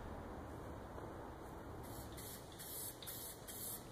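Aerosol spray paint hissing in short repeated bursts as black paint goes onto a welded steel table frame hung in a garage, over a steady background hum.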